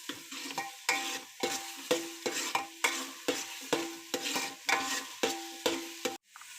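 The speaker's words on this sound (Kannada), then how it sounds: "ಮಿಕ್ಸ್ ಮಾಡಿ ಸ್ವಲ್ಪ ಎಣ್ಣೆಯಲ್ಲಿ ಹುರಿಬೇಕು" A paste of green chilli, coriander, garlic and ginger fries in oil for chicken gravy, with a spoon scraping and stirring the pan in regular strokes about every half second over a continuous sizzle, close and fairly loud.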